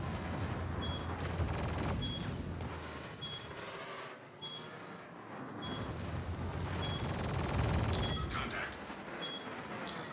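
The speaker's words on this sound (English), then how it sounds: "Oh, I'm getting spammed by missiles." Rapid barrage of missile fire and explosions in a video game, loud and continuous with dense overlapping blasts throughout.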